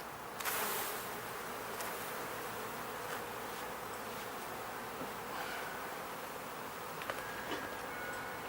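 Honey bees buzz in a dense, continuous drone close around an open hive during an inspection, with occasional small clicks and knocks of handling.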